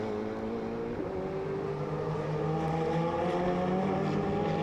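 Ferrari Challenge race cars at speed on the Circuit of the Americas during a Trofeo Pirelli race, a steady layered engine drone with rising and falling whine as cars pass, continuous and fairly distant throughout.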